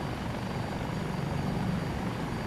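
A Dauphin helicopter flies over desert canyon country in Microsoft Flight Simulator 2024, its rotor and turbine making a loud, steady, close whooshing drone that continues unbroken with no talk.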